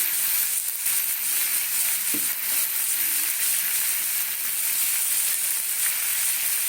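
Ginger, chili and garlic sizzle in hot oil in a frying pan, a steady close crackling hiss that runs unbroken from start to finish, with a brief soft knock of a utensil partway through.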